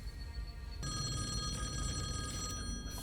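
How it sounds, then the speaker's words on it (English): A telephone rings during a TV episode. Its bell trills steadily and loud for about two seconds over a low background hum, with no talking. "The phone rings?"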